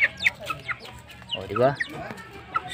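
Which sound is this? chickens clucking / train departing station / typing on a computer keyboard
chickens clucking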